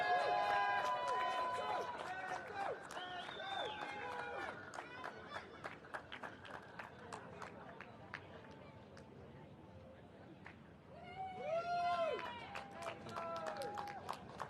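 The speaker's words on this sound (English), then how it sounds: "And your winner overall for the under-10s, a round of applause, please, for Enzo Falzerano" Applause for the under-10s overall winner at a karting series prize-giving in the UAE, scattered clapping from a small outdoor crowd alongside cheering voices and chatter, fairly faint, with a burst of shouting near the end.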